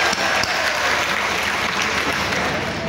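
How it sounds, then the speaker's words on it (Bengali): An audience at a political party council event gives sustained, dense clapping that sounds full and moderately close, holding steady for the whole stretch with a slight swell at the start. "আপনাদের জন্য আরেকটা করতালি।"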